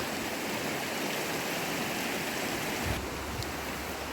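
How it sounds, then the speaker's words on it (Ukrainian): Fast mountain stream in the Carpathian hills of Zakarpattia rushing down into a river, a steady, close, full-band wash of flowing water with no pauses or voices. "Ось з гір такий струмочок стікає прямо в річку. Ось такий швидкий такий струмок."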